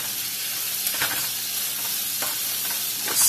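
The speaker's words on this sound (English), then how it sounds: "Stir in my onions." Onions are stirred in a hot pan, a loud close sizzle with a few brief scraping strokes of the utensil, heard alone.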